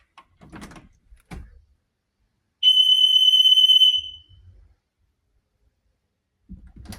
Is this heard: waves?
no